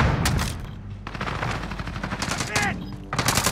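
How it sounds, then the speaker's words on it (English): Rapid bursts of gunfire from an AR sniper rifle in a video game firefight, sharp repeated shots near and loud, with other battle noise and a voice under it. "Using AR sniper."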